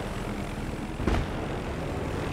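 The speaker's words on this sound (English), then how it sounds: "I don't think that's a friendly chopper." A helicopter flies in the video game Battlefield 3, a dense, steady engine and rotor drone filling the scene, with one brief, louder thump about midway through.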